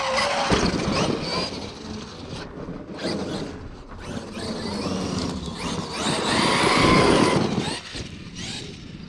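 Traxxas XRT RC truck driving with belted tires, its electric motor whining and drivetrain rattling continuously at close range, rising and falling in loud surges as it accelerates across the ground.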